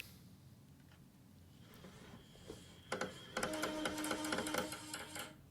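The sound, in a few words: game console struggling to read a disc, printer-like noise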